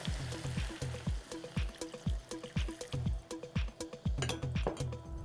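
About nine litres of water are poured into a pot for miso soup, making a rhythmic series of close, glugging splashes and drips that repeat every half second or so, with no talk.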